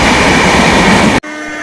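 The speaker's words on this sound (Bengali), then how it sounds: "পাঁশকুড়া জংশন থেকে একটি মেদিনীপুর লোকাল ছেড়ে যাচ্ছে" A Midnapore local train pulls out of Panskura Junction, its loud, dense rumble and rattle filling the short span before an abrupt cut to a quieter, steady train hum.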